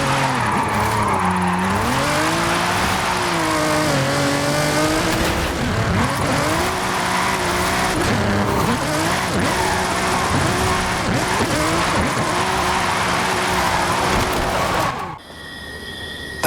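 Racing car in Forza Horizon 5 revving hard and drifting, engine pitch rising and falling with long continuous tire squeal, loud and sustained before dropping away suddenly near the end.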